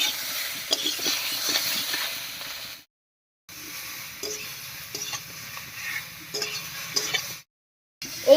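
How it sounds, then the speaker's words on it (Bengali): Gati kochu taro pieces with salt and turmeric frying in a pan for a vegetarian dish, a moderate sizzle with scraping stirs, broken by two short silent gaps, no talking. "অবস্থায় কচুটাকে একটু ভাজা ভাজা মতো করে নিব কচুটা"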